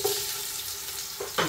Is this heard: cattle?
no